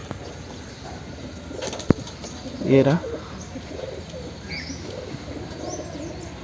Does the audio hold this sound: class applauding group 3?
no